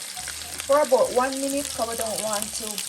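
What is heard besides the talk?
ingredient sautéing in hot oil in a pan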